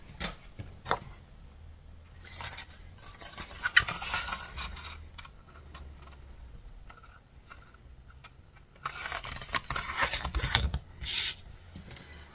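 Card paper for scrapbooking being folded in half and creased, with soft rubbing and scraping strokes, scattered taps and rustles, close and fairly quiet, busier in a burst toward the end.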